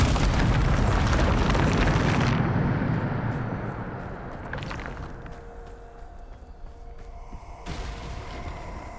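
Bombarda spell explosions in Hogwarts Legacy: a loud, sustained blast roar fills the first two seconds, then decays into rumbling debris, with a second softer burst near the middle and another swell toward the end.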